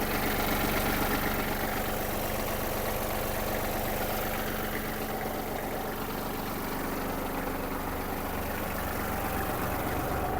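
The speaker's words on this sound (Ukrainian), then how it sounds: "Трьохциліндровий двигун дизельний на 32 кінські сили." A Kubota GL-32 mini tractor's three-cylinder 32 hp diesel engine idles steadily, a continuous low rumble with a faint knocking pulse held at an even level throughout, with no voices.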